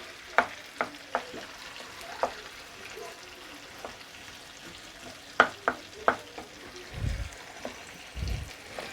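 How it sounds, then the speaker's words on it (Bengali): A soft, steady sizzle of coarsely cut onions frying in a pan until browned, punctuated by sharp scraping clicks of stirring and a couple of low thuds near the end. "পেঁয়াজটা একটু লাল লাল করে ভেজে নেবো, বাদামি বাদামি করে।"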